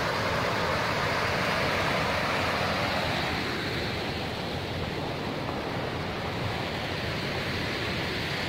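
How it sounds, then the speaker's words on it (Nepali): The Sali river at Sankhu rushes with a dense, continuous roar of flowing water, loud and unbroken throughout. "यो साली नदी"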